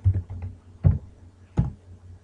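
A few separate keystrokes on a computer keyboard while entering a command for SSH on a PC: three soft, close clicks spaced under a second apart over a faint background hum.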